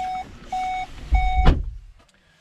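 A 2018 VW Golf R sounds three steady electronic warning beeps in a regular rhythm, followed by a soft thump and low rumble, close and clear with no talking.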